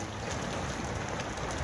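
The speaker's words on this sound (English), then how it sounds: "It's finally raining. It's pouring." Steady, dense rain pours down outdoors in a garden in June, a continuous close hiss of drops drumming on surfaces with no pauses or voices.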